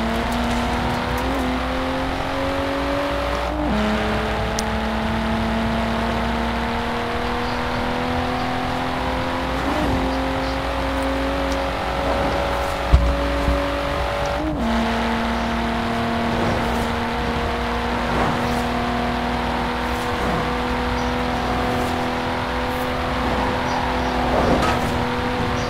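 Car engine from Forza Horizon 4 driving steadily for the whole stretch, its drone rising in pitch through each gear and dropping at shifts, loud and continuous with faint navigation voice prompts.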